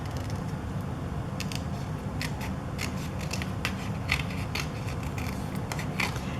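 Paper being cut out with Tim Holtz scissors, giving a run of small, close snips and crisp blade clicks over a steady background hum, with no talking.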